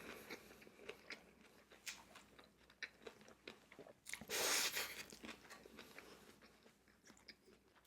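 Korean pork belly wraps (bossam) with rice are chewed up close, with soft repeated bites, wet mastication and crunchy crinkles in an irregular rhythm, faint overall, with one louder crunchy burst midway.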